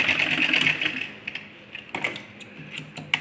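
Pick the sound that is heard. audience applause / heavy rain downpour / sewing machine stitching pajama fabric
sewing machine stitching pajama fabric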